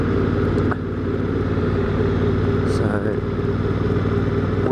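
A Honda Africa Twin motorcycle ridden on an outback road toward Menindee gives a constant close engine drone with rhythmic pulsing and wind rush, and a voice talks over it.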